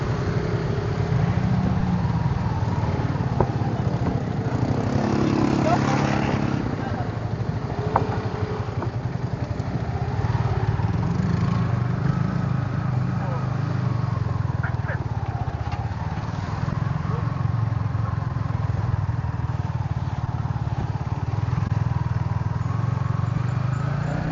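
A motorcycle rolls slowly across a wooden bridge of ulin wood on Pulau Laut, Kotabaru, its steady engine drone running throughout with scattered clattering over the planks and no one speaking.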